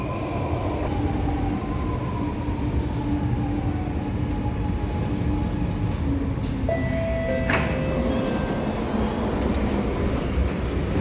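Steady rumble of a Chennai Metro train in motion from Chennai Central toward the airport, with rail noise, brief squealing tones and a mechanical whine rising midway, no voices.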